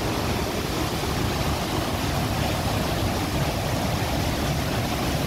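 A river flowing along a walking path near Dyserth Falls in Wales, heard as a steady, loud broadband rush of moving water that stays constant throughout with no voices.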